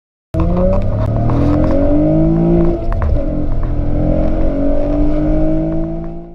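A supercharged Acura TL with a repaired clutch slave cylinder drives by under load, its engine note rising and falling through revs with a steady whine, loud and close, no talk.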